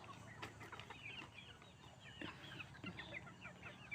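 Several chickens cluck softly and intermittently nearby in the evening before going to roost, with quiet outdoor background noise throughout.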